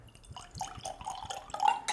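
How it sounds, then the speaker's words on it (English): Non-alcoholic whiskey poured from a bottle into a glass, heard as close, bubbly glugging and small splashes that build toward the end. "So let's go ahead and pop this one open and give it a swig here. As far as the bottle goes, it's pretty cool. So we're just gonna pour in."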